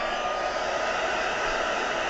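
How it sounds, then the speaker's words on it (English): A noisy heat gun blows steadily while drying a craft project with embossing work, a loud, even whooshing hiss that holds without change throughout. "Oh, a super noisy heat gun."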